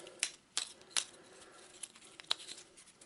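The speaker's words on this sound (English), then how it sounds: "So we'll just give these a quick shuffle." Arkham Horror gate cards being shuffled by hand, giving several sharp, close riffling bursts separated by short pauses, with softer card handling between them.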